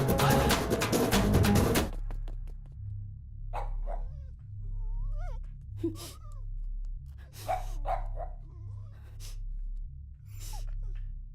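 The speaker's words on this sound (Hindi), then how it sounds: "जब भौंकने बोला था तब नहीं भौंका, अब भौंक रहा है" A dog in a Hindi-dubbed comedy film scene gives several short, scattered barks and whimpers over a low, steady hum, after a loud, noisy opening burst.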